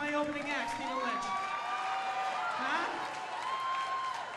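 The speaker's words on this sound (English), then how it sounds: "How about a big round of applause for my opening act, Stephen Lynch?" A stand-up comedy crowd in Los Angeles claps, cheers and whoops for opening act Stephen Lynch, a steady, dense roar of applause that holds for several seconds.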